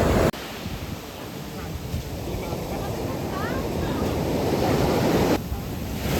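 Ocean waves wash onto the shore at Dingala, a steady broad roar of surf mixed with wind buffeting the microphone, swelling slightly toward the end, with no clear voices over it.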